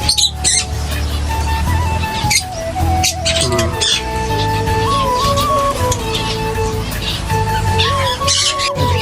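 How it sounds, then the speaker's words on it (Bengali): Small parakeets chirp and squawk in quick, overlapping bursts with sharp whistled notes, loud and close, over a busy background of other chatter. "ছোট ছোট টিয়া পাখি"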